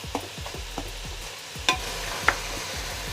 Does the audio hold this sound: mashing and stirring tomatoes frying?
yes